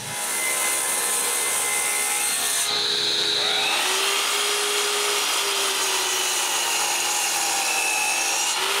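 A power saw cuts wood for the frame of a bathroom vanity, a loud steady whine that changes pitch partway through as the blade works the stock. It runs continuously throughout, close up, with no talking.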